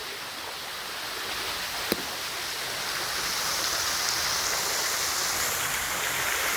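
Water spills down a two-tiered waterfall in a ravine in Hoosier National Forest, a steady close rushing wash with a single brief click partway through, and no voices.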